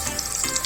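Food in a pot bubbling and sizzling at a steady boil, a close, continuous hiss with small popping bursts.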